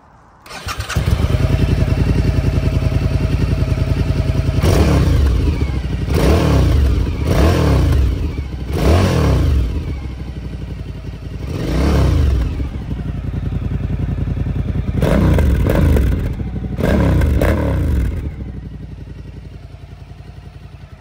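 Suzuki DL1000 motorcycle fitted with a LeoVince exhaust fires up and settles into a loud idle, then gets blipped through a series of sharp throttle revs, loud and close with no talking.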